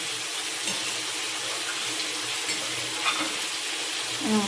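Moya fish and vegetable curry in a mustard-and-water gravy with coriander leaves simmers in a pan, giving a continuous close sizzling hiss with faint bubbling and a few light clinks near the end.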